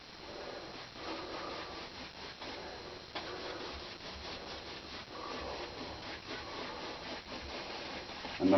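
A paintbrush makes small crisscross strokes on a canvas, a soft, repeated scratchy rubbing at close range that stays faint and fairly even, with no talking over it.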